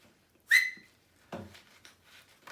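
A single sharp, loud cattle whistle rings out briefly, followed by quieter rustling and faint handling noises.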